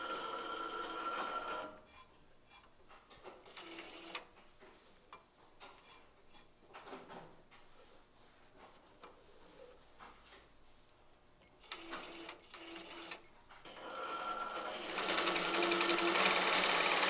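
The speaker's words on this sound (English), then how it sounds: "and then we'll be stitching in a few seconds." An Autopilot Mach 3 quilting machine stitches a pattern, its sewing mechanism chattering loudly at the start, dropping to quieter mechanical ticking and clicks, then resuming with a steady, louder stitching run toward the end.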